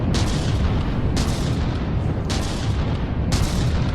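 Cannons fire in the vehicle-combat game From the Depths, four heavy blasts about a second apart over a constant loud, low battle rumble.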